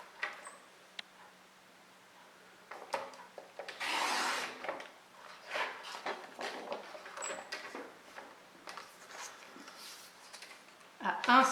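Scissors or a craft knife cut paper along a traced line for a romantic chic scrapbook album, giving quiet intermittent rasping and rubbing strokes with a longer burst in the middle, close and soft, with no talk.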